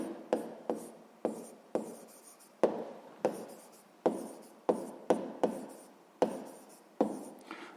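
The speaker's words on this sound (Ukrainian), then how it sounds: "Пишемо в кінці цифру 5." Handwriting of numbers for a maths exercise: a quick series of about a dozen sharp pen taps and short scratches in an uneven rhythm, close and quiet, free of talk.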